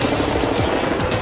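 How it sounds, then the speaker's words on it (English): A chartered helicopter flying over the Swedish countryside near Heby gives a steady, loud, close rotor drone with a faint pulsing beat throughout, and no voices. "his family has chartered a helicopter ride over the Swedish countryside"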